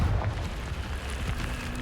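Confringo fire spell explosion in Hogwarts Legacy, a deep booming burst at the start that rumbles on as a sustained low roar through the rest of the moment.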